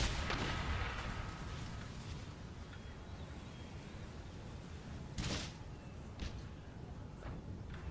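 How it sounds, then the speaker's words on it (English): Mortar fire booms in a Total War battle game, a few heavy distant thuds breaking through a constant low rumble of battlefield noise, with one sharp blast standing out midway. "They might bombard us here with mortars, but it shall not put us off, sir."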